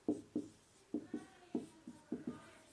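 Chalk or marker tapping and scraping on a board in short strokes, about ten quick marks in uneven pairs, close and fairly quiet with no talking.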